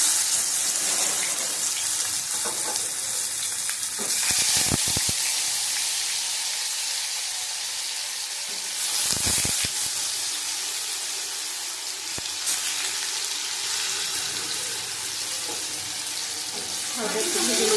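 Prawn fritters frying in a wok for a Bengali prawn recipe, giving a continuous loud sizzle and crackle throughout with a few brief breaks and bumps, close and dominant, no talking.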